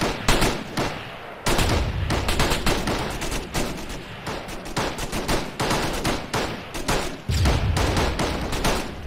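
Gunfire in the Arma 3 video game during a military training session: dense, continuous bursts of automatic rifle and machine-gun fire, with rapid overlapping shots and heavier booms, loud and sustained throughout.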